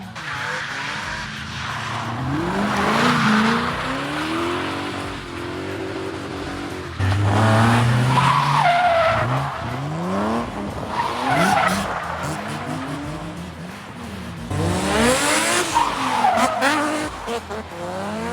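Drift cars slide through the final corner of a mountain touge course, passing in waves with loud tire squeal, revving engines and skidding that swells and fades, with some voices in between.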